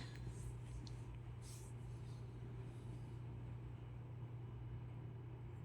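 Street traffic on Arellano Street in Cebu City, a steady low rumble of passing vehicles and engines heard from a distance, faint and continuous with no voices over it.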